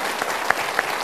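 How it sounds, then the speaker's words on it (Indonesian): Studio audience applause at a talk show, a short continuous patter of clapping at moderate volume with a couple of brighter individual claps standing out. "Kita berikan tepuk tangan untuk jawaban yang sudah Anda pilih."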